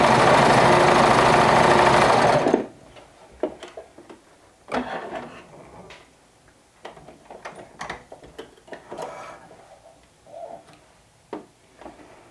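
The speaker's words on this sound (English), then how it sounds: "Now I top stitch the seam allowance down" A sewing machine top-stitches the seam allowance of a gathered summer dress, running loud and steady for about two and a half seconds before stopping, followed by scattered clicks and handling noises.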